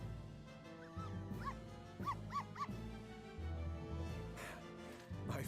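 A dog barks and yips in the Professor Layton vs Phoenix Wright game, several short bright barks and whimpers over a soft musical background.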